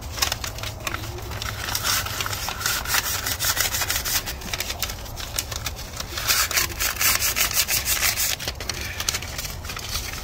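Steady scratchy rubbing of sandpaper against wood, continuous and close, with a rapid back-and-forth texture and no talking.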